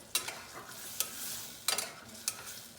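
A spoon stirs sugar into barberries in a hot frying pan, giving four or five sharp scraping strokes over a soft, steady sizzle, close and fairly quiet.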